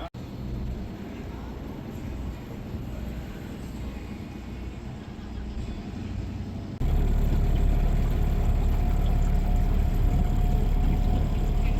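A steady boat engine drones throughout on the Oregon coast, then grows louder and heavier partway through and keeps running evenly with no talking.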